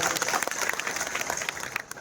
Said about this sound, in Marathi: साहेबांसाठी एकदा सगळेजण टाळ्या वाजवूया आपण